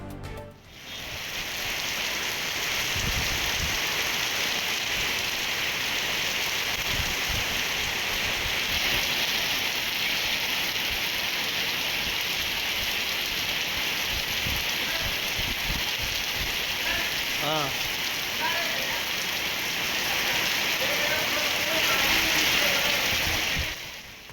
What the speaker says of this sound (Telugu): ఇటు ఉప్పల్, బోడుప్పల్, మేడిపల్లిలోనూ వర్షం దంచుకొడుతోంది